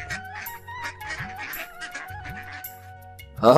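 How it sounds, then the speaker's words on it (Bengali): Several honking duck calls from a cartoon in short bursts over steady background music, with a louder squawking burst at the end. "আরে রমেশ ভাই তুমি দেখি পুকুর ভরে হাঁস পুষতে শুরু করেছো"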